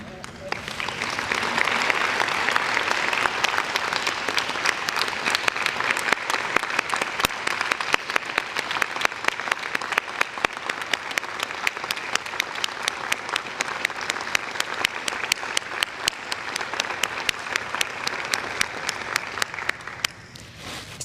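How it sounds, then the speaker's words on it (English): Long round of audience applause in a coliseum at a college program honoring a retiring staff member, many hands clapping steadily with crisp individual claps standing out, tapering off near the end. "And so Calvin, we're going to give you a round of applause as he retires."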